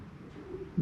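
Racing pigeons coo at their loft, a soft low murmur that swells into a louder, close coo at the very end of the short moment.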